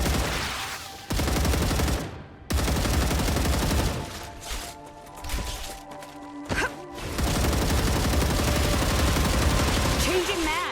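Loud, heavy-recoil gunfire from a shooter in the video game Star Rupture, sustained bursts with brief gaps and booming impacts, close and dominant.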